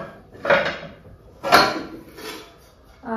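A kadhai and pans being handled, with three separate metallic clatters and knocks close by, each fading away, and a short voice at the end.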